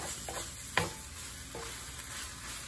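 Shredded beef balado stir-frying in a pan until dry, with a low steady sizzle broken by a few short scraping strokes and one sharper clack of a utensil against the pan.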